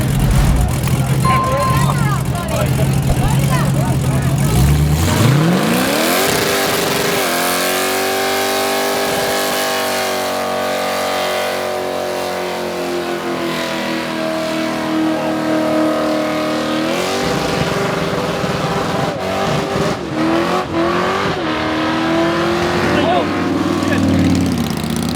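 Loud car engine revving hard during a tire burnout at the 2022 RYCO Charity Car Show, sustained roaring and screeching tones rising and holding across the whole stretch with a crowd chattering behind.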